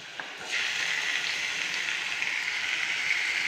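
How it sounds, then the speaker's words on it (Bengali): A masala of tomato, cumin, ginger and whole peppercorns hits hot oil and breaks into a loud, steady sizzle that continues evenly and close by. "মশলাটা দিয়ে ভালো করে কষিয়ে নিচ্ছি, দেখতেই পাচ্ছ।"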